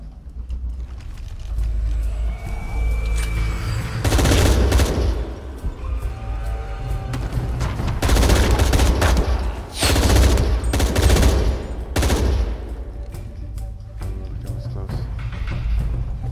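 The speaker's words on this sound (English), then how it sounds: "There's gonna be a lot of shooting." Gunfire in the video game Shadow of the Tomb Raider, with loud bursts of shooting in clusters over a constant low rumble, some sharp volleys standing out above the rest.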